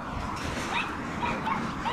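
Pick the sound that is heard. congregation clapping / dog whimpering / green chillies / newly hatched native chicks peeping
dog whimpering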